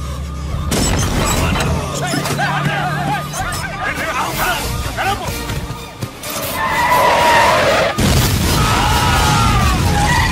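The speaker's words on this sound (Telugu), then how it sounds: "Bomb bomb bomb bomb bomb." A bomb explosion in a scene from the Telugu action film Allari Pidugu booms in a sudden broadband burst, with a second heavy crash later, amid crowd commotion, shouting and a horse neighing.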